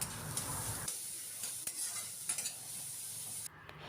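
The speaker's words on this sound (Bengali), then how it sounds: "তো পেঁয়াজ কুচি এই যে দিয়ে দিলাম। এইবার আবার একটু নাড়াচাড়া করে নেব।" Chopped onions fry with garlic and green chilli while a spoon stirs them in the pan, scraping and sizzling in short bursts that start loud and settle into a quieter crackle.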